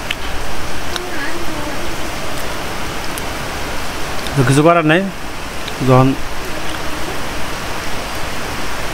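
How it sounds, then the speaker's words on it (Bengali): Heavy rain pours steadily outside a building, a dense, even hiss that runs the whole time, while someone speaks briefly over it near the middle. "এখন দেখেন বৃষ্টি জোরে নামছে অনেক"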